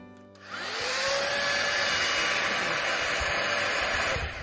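A fake Dyson Airwrap hair styler starts up and blows air with a loud, steady whooshing whir that rises quickly and then holds close and constant before cutting off at the end.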